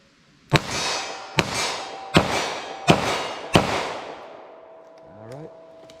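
A snub nose revolver fires five .38 Special standard pressure rounds at a steady pace, each loud sharp crack trailing into a ringing echo outdoors, followed by fainter metallic clicks.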